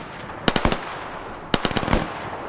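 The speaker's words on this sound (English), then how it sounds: "So like in this gunfire here" Gunfire in a World War 2 multiplayer shooter game: two loud, close bursts of rapid automatic fire, each a quick string of cracks, then a single shot right at the end, with no speech.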